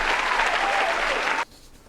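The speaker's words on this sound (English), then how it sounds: "applause. Applause. Applause works." A canned applause sound effect played during a live show, a dense crowd clap that cuts off abruptly after about a second and a half, leaving quiet room tone.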